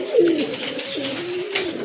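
A pair of Mukhi pigeons, one almond-coloured and one red, coo softly and close by, a low warbling call that rises and falls twice, with no talking.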